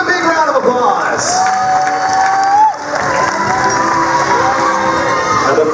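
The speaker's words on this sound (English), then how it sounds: "Here they are, your 5 contestants. Give them a big round of applause." A live audience at a Fear Factor Live show in Florida cheers and claps for the contestants, a loud crowd roar with whoops and shouts that briefly dips and then swells again.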